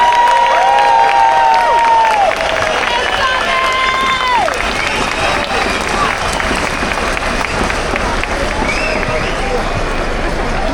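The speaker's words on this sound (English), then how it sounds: "Let's give her a round of applause again, everyone." A large outdoor crowd at a free speech rally applauds and cheers continuously, a dense roar of clapping and shouts with whistles and a voice cutting through early on.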